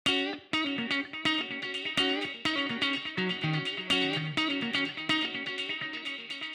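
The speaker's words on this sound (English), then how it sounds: "I started with this guitar riff that I found on Splice." A funk guitar riff sample processed with reverb and delay plays alone, with rhythmic plucked chords and distorted, echoing tails, steady and upfront over about six seconds.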